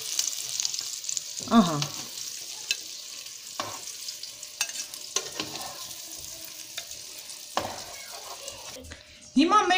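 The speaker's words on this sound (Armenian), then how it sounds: "նույնիսկ կարող ենք այս նույն ձետով մեջը 3-4 հատ կա, դրանք էլ տապանենք" Eggplant slices fry in a pan with very little oil, giving a steady close sizzle broken by occasional clinks and stirring scrapes, with a brief voice speaking now and then.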